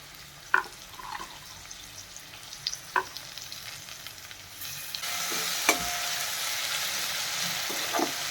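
Potatoes and tomatoes fry in a pan for a village-style cluster bean curry, giving a steady close sizzle that grows louder and denser halfway through, with a few light clinks of stirring.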